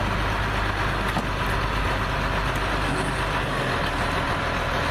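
A diesel truck idles nearby, tied to the retrieval of a 1959 GMC survivor truck, giving a steady low rumble that holds evenly through the clip with no talking over it.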